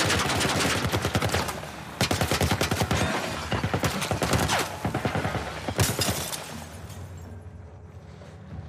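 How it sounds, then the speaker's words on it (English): A military turret in The Last of Us Part I fires long, loud automatic bursts, rapid evenly spaced shots in several strings separated by short pauses, with the last burst tailing off into quiet. "What the fuck are they shooting at us? Some kind of military turret."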